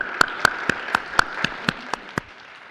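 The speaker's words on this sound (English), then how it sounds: "join me to give him a hand of applause" About nine evenly spaced, crisp hand claps ring out in a steady rhythm at a Human Rights Day event. They sound sparse and distinct, like a small group clapping in time, and fade out near the end.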